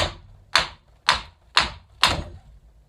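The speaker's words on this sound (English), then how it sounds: "when your axe does the splitting and goes all the way through" Four sharp, evenly spaced chops ring out as an axe strikes and splits wood into hunks for riven pegs, each hit a crisp close crack with a short decaying tail.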